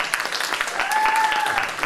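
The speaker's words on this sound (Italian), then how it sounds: "Dai un applauso a Antonio Russo." An audience applauds after a poetry reading at a poetry twinning event, a dense, steady patter of clapping from many hands throughout.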